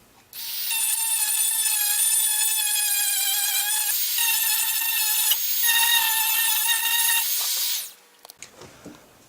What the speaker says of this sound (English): We'll now take the Dremel, do the same process of trimming this off and trimming this off the back.